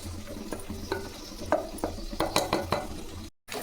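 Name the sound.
mashing cooked lentils with a ladle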